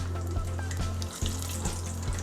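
Urad dal tempering in hot oil in a clay pot for sambar, a steady close sizzle and crackle with occasional stirring scrapes and soft pops.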